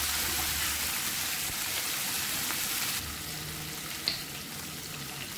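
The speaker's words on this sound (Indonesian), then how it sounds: "tumis dulu ayamnya nih. Ayamnya didahulukan, kita masak sampai dia mateng." Chicken pieces stir-frying in a hot pan, a steady close sizzle with a faint clink of a utensil, no talking.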